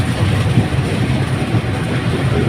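A train travelling on rails, heard from inside as a steady, loud rumble with continuous rolling noise and no clear breaks, no voices over it.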